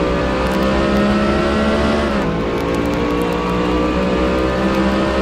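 Race trucks roar around Circuit of The Americas in the Hitachi Truck Series, a steady, loud engine drone with layered revving tones and a slight pitch shift midway, no talking.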